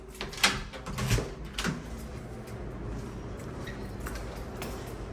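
Front door of a studio apartment in a Panama City condo building being opened, a few sharp clicks and knocks of the latch and handle early on, then a quiet room hum.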